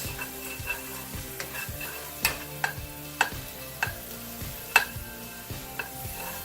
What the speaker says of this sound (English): now that my onions and green peppers are nice and sauteed